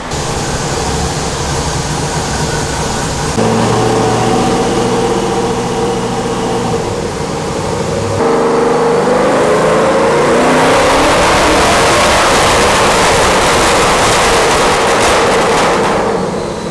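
A Camaro with a Whipple supercharger and cam, running about 7 lbs of boost, roars loudly on a chassis dyno with a lumpy, rough idle that rises into a long sustained high-rpm pull.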